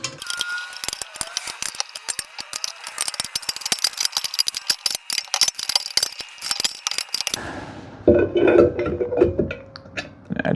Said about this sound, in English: just get your little wrench and Allen wrench